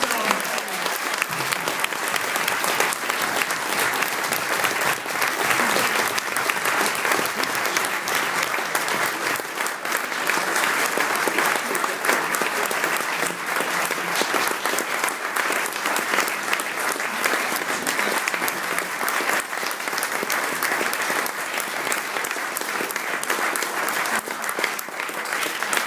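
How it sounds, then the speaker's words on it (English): A large crowd at an Aston Martin Members Trophy awards ceremony in Italy applauds loudly and continuously for nearly half a minute, a dense, unbroken roar of clapping with voices talking over it. "It's a huge applause."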